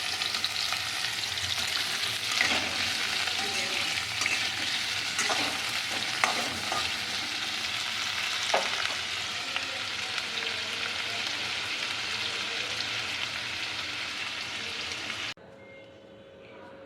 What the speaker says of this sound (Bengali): এবার আলুগুলো কড়াই তেলেতে ছেড়ে দেবো।